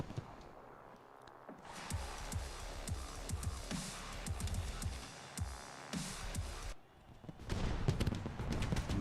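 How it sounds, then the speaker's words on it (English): Fireworks and pyrotechnics go off at a monster truck show in Orlando: rapid bangs and crackling bursts in dense volleys over a crowd's roar, a brief lull near the end, then more blasts. "I love the pyrotechnics here in Orlando. So many, the lasers and the fireworks and everything."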